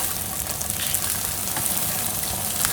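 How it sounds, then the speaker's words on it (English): Bacon and nuts fry in a pan over a low flame, giving a steady close sizzle and crackle that carries on without break. "Now let the bacon and the nuts cook on a low flame for 3 to 4 minutes."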